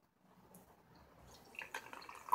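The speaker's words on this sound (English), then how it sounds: "Let's pour it out, and I bet you it's going to be orange colored." Red Bull Orange energy drink poured from a can, a soft trickling splash that starts quietly and grows louder over a couple of seconds, close up with no talk.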